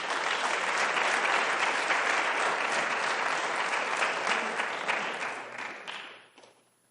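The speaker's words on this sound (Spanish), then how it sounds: "Denle un aplauso al Señor" Church congregation breaks into loud, sustained applause during a sermon, dense clapping that holds steady for several seconds before fading out at the end.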